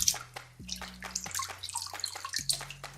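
Water poured over rice in a sieve to wash it, with splashing, trickling and dripping, close and fairly soft, over a low steady background hum.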